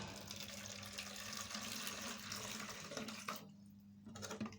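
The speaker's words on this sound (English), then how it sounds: "So we are going to pour water into this" Water is poured into a holding jar for a homemade distillation setup, a steady faint trickle and splash that runs continuously, then briefly cuts out before resuming quietly.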